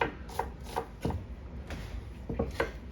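A very sharp knife slices thin slivers on a board for a meatball stew, about eight crisp, regular taps close by, evenly paced with soft scraping between cuts.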